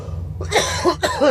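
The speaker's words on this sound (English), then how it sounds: "I'm still fighting this damn cough" Several harsh coughs close to the microphone, coming in quick bursts over a low, steady background hum.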